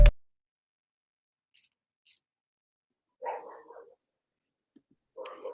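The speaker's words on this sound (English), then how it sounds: "And you hear the dogs in the background barking" Dogs bark in short bursts somewhere in the background, a couple of muffled barks separated by long quiet stretches, after a sharp knock at the start.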